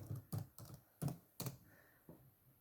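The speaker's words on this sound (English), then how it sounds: "you can just type in Google Classroom" Keys on a computer keyboard are pressed in quick clusters of soft clicks with brief pauses between them, quiet and near, with no voices.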